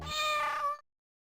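A cat gives one drawn-out, high meow that lasts under a second and then cuts off abruptly into silence.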